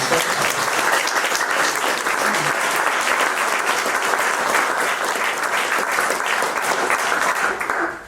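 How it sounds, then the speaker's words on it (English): A poetry reading audience at a university poetry center breaks into loud, sustained applause, a dense, even roar of many hands clapping throughout with no speech, fading at the very end. "Let's have another round of applause for Jo."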